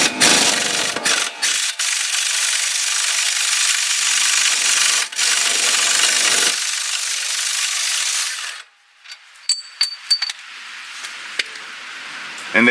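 Pneumatic impact tool spinning out long 15 mm strut bolts on a 2007 Chevy Suburban front suspension, a loud sustained hiss-whir for about eight seconds broken by brief pauses, then quieter clicks and rattles.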